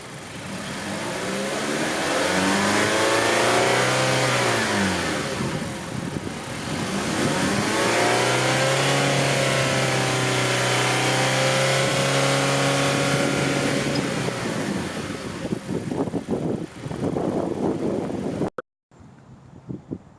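A 2014 Mazda CX-5 2.5L engine with an AEM cold air intake revs to about 4,000 RPM in long sweeping climbs and falls, held high for several seconds, loud and close, ending abruptly.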